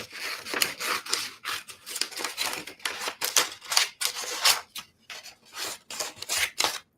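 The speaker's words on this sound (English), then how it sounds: "So here, let's take some scissors." Scissors snip paper repeatedly in quick, rhythmic strokes, close and crisp, with brief pauses between cuts.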